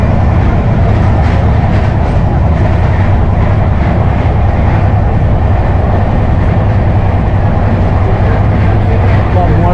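A loud, steady rumble of a passenger train on rails, heard from inside on a journey to Bishnupur, with rhythmic clatter throughout and faint passenger voices underneath.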